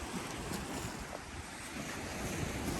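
Ocean waves break against man-made rocks along a shoreline, a steady close rumbling surge with wind buffeting the microphone throughout.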